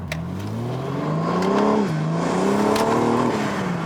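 A BMW G82 M4 Competition fitted with new intakes revs hard, its engine note climbing, dipping and rising again in a loud, close growl with intake rush and no talking.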